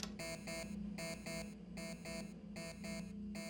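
In the space-survival game Tin Can, an electronic alarm beeps in repeating groups of quick double tones, steady and rhythmic over a low hum, with no talking.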